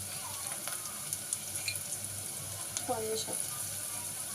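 Onions with salt frying in a pan for chicken pulao, a steady low sizzle under a woman's brief speech, with faint clinks and stirring scrapes.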